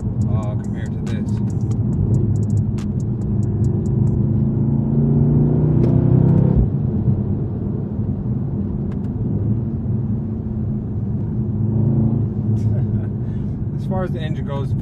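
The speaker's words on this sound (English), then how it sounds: "As the engine goes, the V8 sounds amazing." Mercedes C63s AMG V8 engine accelerating on a flat-out drive, a steady loud rumble with rising throttle that swells around the middle, heard from inside the car.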